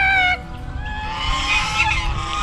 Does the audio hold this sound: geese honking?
yes